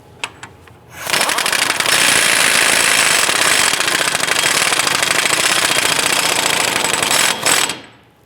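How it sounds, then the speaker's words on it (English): Impact wrench snugging down the rear axle nut on a 2005-2010 Chrysler 300, one loud continuous rattling burst of about six seconds after a few faint clicks. "So I'm going to install our axle nut. And let's go ahead and snug that down."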